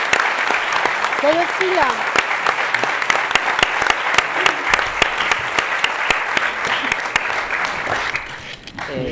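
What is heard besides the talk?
audience applause at closing ceremony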